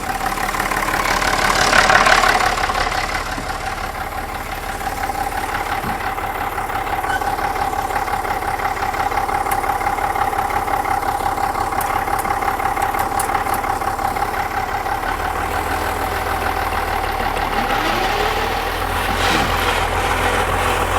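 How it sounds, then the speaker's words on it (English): Case diesel engine idling beside a soybean field, a steady mid-pitched rumble throughout, moderately close, with a brief louder swell at the start and no talk. "Case diesel."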